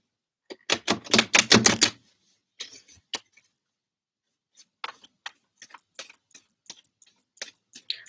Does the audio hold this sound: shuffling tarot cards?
yes